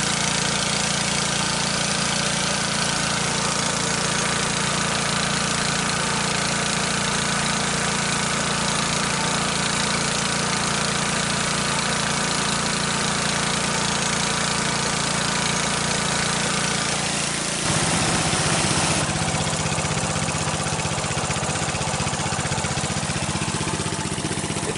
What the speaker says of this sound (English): Idling a little bit fast.